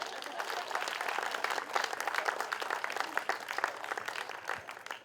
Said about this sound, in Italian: perché qui ci sarà bene l'applauso